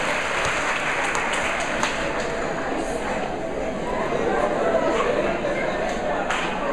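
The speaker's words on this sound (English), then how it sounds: "Clap Mr. Bailey again." Sustained clapping from the audience at a parenting and small business graduation ceremony, applauding Mr. Bailey, a steady even wash of hands with a faint constant hum underneath.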